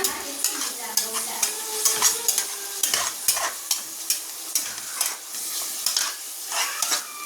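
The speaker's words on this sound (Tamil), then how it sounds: "இது நல்லா வதக்கிக்கோங்க" Mutton masala is sautéed in a pan, with a spoon scraping and stirring in a steady rhythm over a continuous close sizzle.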